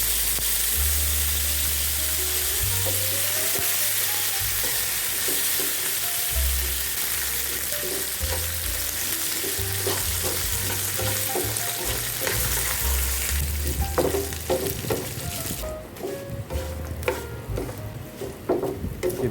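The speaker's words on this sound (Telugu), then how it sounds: "ఏదైనా సరే తాలింపు పెట్టేటప్పుడు ఆ సౌండ్స్ వస్తాయి కదా," Spices sizzling steadily in hot oil while tempering for gongura pulihora, a loud continuous frying hiss with crackles and occasional stirring scrapes, close up and without any voices.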